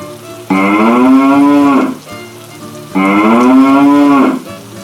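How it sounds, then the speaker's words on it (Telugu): Two long, loud cow moos from inside a cave, each drawn out over about a second and a half, separated by a short pause with low background rumble. "తన ఆవు అరుపు గుహ లోపల నుండి వినిపిస్తుంది"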